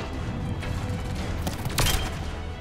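A grenade blast in the shooter Mass Effect 3, a dull boom rising out of steady combat noise, followed by a short burst of gunfire, fairly loud.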